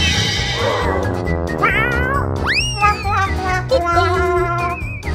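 Several high, thin cartoon kitten meows ring out over a steady backing of music, the cries rising and bending in pitch.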